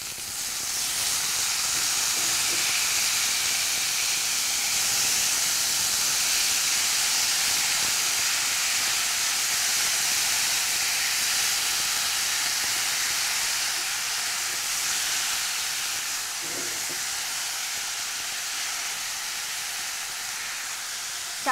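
Banana stem pieces dropped into hot tempering oil for a curry, a loud, steady hiss of sizzling that holds evenly throughout and eases slightly toward the end.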